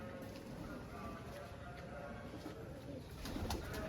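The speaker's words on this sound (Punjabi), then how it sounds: "ਗੁਰੀ ਲੱਗਿਆ ਬਾਈ ਫੜਨ ਕਬੂਤਰ ਨੂੰ ਉੜ ਗਿਆ ਉੜ ਗਿਆ" Racing pigeons coo softly in the background while people talk nearby.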